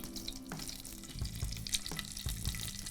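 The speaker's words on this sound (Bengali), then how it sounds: "এটাকে আমরা হাই ফ্লেমে ভাজবো" Mushroom and paneer frying over a high flame, giving a steady close sizzle with occasional soft stirring knocks and no talk.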